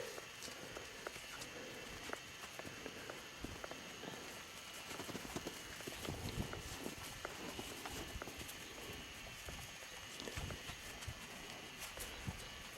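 Bulls shift around a cattle pen, with scattered hoof thuds, clatters and scuffs over a steady outdoor background, fairly quiet and irregular, without talk.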